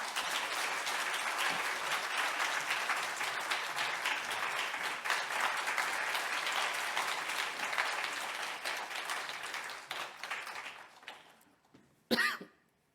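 A church congregation applauds steadily for about ten seconds, then the clapping fades out, followed by a short burst of noise.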